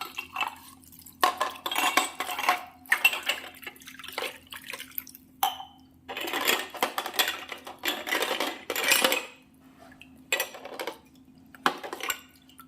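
Bronze pooja vessels being washed and scrubbed by hand in water: bursts of splashing, rubbing and metallic clinks come in uneven clusters with short quiet gaps, close and moderately loud.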